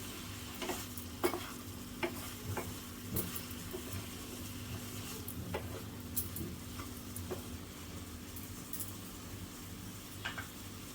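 Yam pieces tossed and stirred in a frying pan with coriander powder, a quiet low sizzle punctuated by intermittent spoon scrapes and taps against the pan, fairly faint and with no voices.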